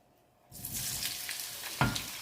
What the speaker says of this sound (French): Je vais faire revenir les oignons dans l'huile chaude.